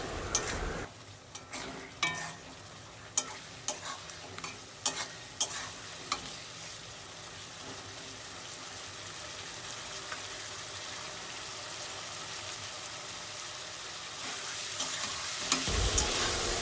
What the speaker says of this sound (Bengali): আলুটাকে ভালো করে দিয়ে ভালো করে কষতে হবে কষে পুরো তেল বার করতে হবে